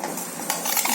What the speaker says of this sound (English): First of all, we will mix pears